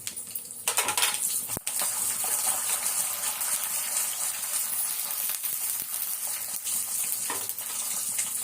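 Chana dal and urad dal frying in hot oil, with a steady dense sizzle that continues throughout, broken by a few sharp metallic clinks of a utensil against the pan near the start.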